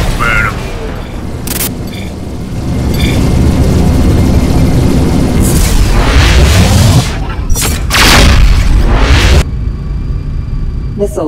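Missile explosions in the space game Rebel Galaxy: loud, deep booms and rumbling blasts that come in several bursts over a dense, roaring space-battle din, with a voice speaking in places.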